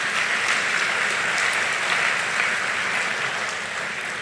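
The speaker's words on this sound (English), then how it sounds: "So, a round of applause." A graduation crowd at a Westminster commencement gives a round of applause, steady, dense clapping from many hands that holds evenly loud from start to finish, with no voices standing out.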